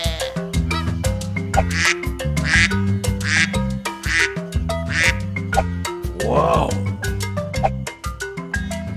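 A duck climbing out of a river quacks loudly and repeatedly in a quick, rhythmic series of nasal calls that continue throughout.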